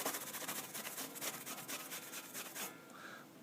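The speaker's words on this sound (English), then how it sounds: "it's the lighter buffing action that really gets the tree wax shining" Paper towel buffing tree wax on a surface, giving a faint, fast rhythmic rubbing and rasping close by that keeps going for several seconds before easing off.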